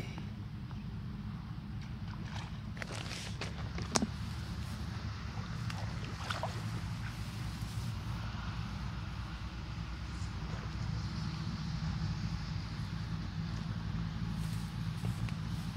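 Steady strong wind over open water at a freshwater fishing spot, a constant low rushing roar across the whole stretch, with a few faint knocks and clicks and one sharp tap.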